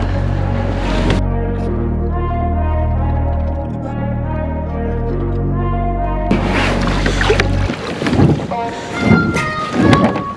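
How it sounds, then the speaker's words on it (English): Strong wind gusting across the microphone on a bass fishing boat in about 30 mph wind, heavy low rumble and buffeting alone at first, then choppier bursts and water noise toward the end. "The wind's taking me out."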